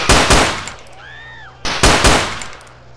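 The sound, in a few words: weapon firing in video game GTA San Andreas, Battlefield 2142 weapon pack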